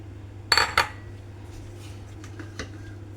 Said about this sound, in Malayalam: നമുക്കൊരു മിക്സിൻ്റെ ജാർ എടുത്തിട്ട് അതിലേക്ക് കട്ട് ചെയ്ത് വെച്ച മാങ്ങ കഷ്ണം ഇടാം